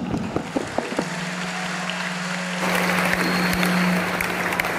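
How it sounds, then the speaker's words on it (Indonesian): Students applaud at a school vocational program event, a steady wash of clapping under a low constant hum, growing slightly louder partway through and continuing without talk. "Tepuk tangan semua."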